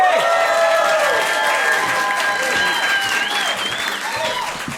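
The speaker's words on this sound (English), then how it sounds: "Everybody make a bunch of noise for my good buddy Doug Mellor, everybody!" Audience at a stand-up comedy show applauding and cheering steadily throughout, a dense sustained wash of clapping with whoops rising over it, with some talk mixed in.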